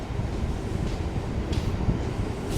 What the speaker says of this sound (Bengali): আমাদের ট্রেন ঠিক রাইট টাইমে একদম 4:30-র সময় ছেড়ে দিল আজিমগঞ্জ রেলওয়ে স্টেশন থেকে।